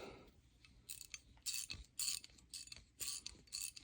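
A 19 mm metric ratcheting wrench clicks through several short bursts of quick ratchet ticks separated by brief pauses, close but quiet, with no talking.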